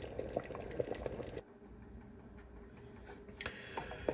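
Pear jam simmers in a pot, with soft bubbling pops and little liquid plops coming close and quiet, easing off briefly in the middle before the bubbling picks up again.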